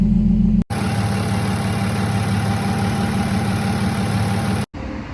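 An Audi S4 engine idles with a steady, low, even drone, close and continuous, broken by two very brief gaps.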